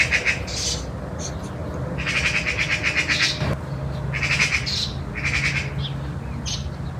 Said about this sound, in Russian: стрекочет сороки опять там снизу на Анфису